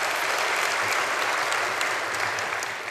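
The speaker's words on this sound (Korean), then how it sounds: "우리를 믿음의 열조로 삼으신 우리 하나님 앞에 감사 박수" Church congregation applauding together, a dense, steady wash of clapping that holds at an even level for about three seconds, with no talking over it.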